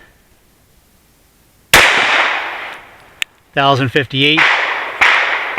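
Glock 43X pistol fitted with a Harrington Arms compensator firing 124-grain handloads, two sharp loud close shots a few seconds apart with a faint click between, someone briefly speaking after the first shot.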